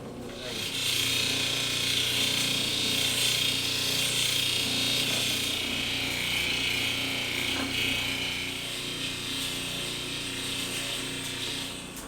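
A small grinding wheel shaping a stone cabochon, giving a steady, loud, continuous whirring grind with a bright abrasive hiss that holds unbroken throughout at close range.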